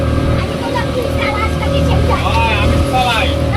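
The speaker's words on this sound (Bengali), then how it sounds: "এই মুহূর্তে দ্রুত বেগে বোটখানি যাত্রা শুরু করেছে।" A boat at Elephant Beach on Havelock in the Andamans pulls away quickly; its engine roars loud and close in a steady, unbroken drone.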